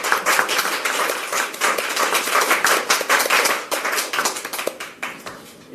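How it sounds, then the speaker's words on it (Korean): A crowd claps in a dense, irregular burst of applause that holds steady, then thins out toward the end, welcoming a National Assembly deputy speaker at a political party event. "박수로 환영합니다"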